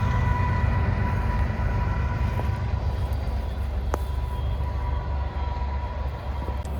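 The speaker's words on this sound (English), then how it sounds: "Look at that train this morning." A train rolls past on a farm pasture in the morning, a steady loud rumble of wheels on rails with a few sharp metallic squeals and clanks, continuous and close, with no talking.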